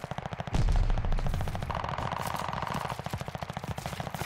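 Sustained automatic gunfire from an assault rifle in Call of Duty Vanguard, a rapid steady stream of shots with a loud burst near the start, continuing throughout without talk.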